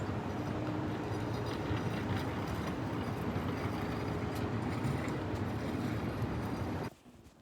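A New York City subway train rumbles steadily with a broad, roaring noise and faint clatter, holding loud for about seven seconds before cutting off abruptly.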